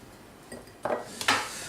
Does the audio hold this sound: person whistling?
no